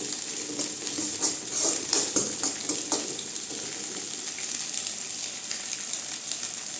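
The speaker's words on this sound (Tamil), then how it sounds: "நல்லா இப்படி கிண்டிக்கணுங்க" Egg rice with chili powder is stirred in a frying pan, producing a steady, close sizzle with soft scraping strokes and irregular crackles throughout.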